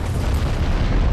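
A deep, sustained rumbling boom from an explosion in the video game Dark Souls 3, loud and dense with low-end energy throughout the short burst.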